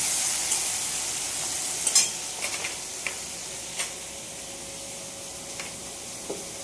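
Chopped tomatoes fry in spice paste with a soft steady sizzle, while a spoon stirs in occasional scrapes and clicks, close and fairly quiet.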